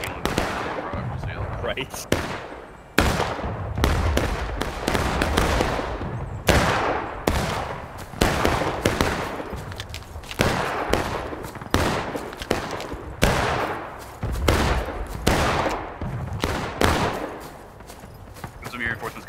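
Repeated musket volleys and scattered rifle shots crack out in close succession on a Civil War battlefield in War of Rights, loud and echoing, with a voice briefly heard between shots.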